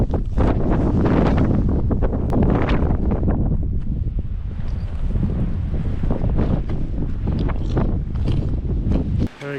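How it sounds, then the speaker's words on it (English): Strong wind on the Mount Moriah summit in March roars and buffets the microphone in loud, rumbling gusts that rise and fall without a break, with no voices heard. "on our way back down on this very windy but sunny day."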